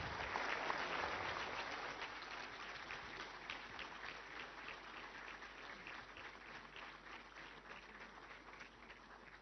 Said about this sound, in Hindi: एक बार जोरदार तालियों के साथ माननीय प्रधानमंत्री श्री नरेंद्र मोदी का अभिवादन